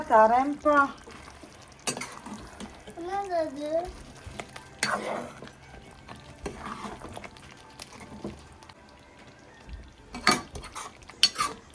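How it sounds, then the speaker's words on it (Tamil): Eggplant cooking in a pan is stirred now and then, giving scraping and clinking utensil knocks over a soft sizzle, with brief voice sounds in between. "நம்ம கத்திரிக்காய் பாருங்க எடுத்து அப்பப்ப இப்படி கிளறி விட்டுக்கணும்"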